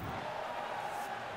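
A boxing arena crowd for a Crolla versus Gatti bout keeps up a faint, distant roar of cheering, a sustained murmur of many voices with no single shout standing out.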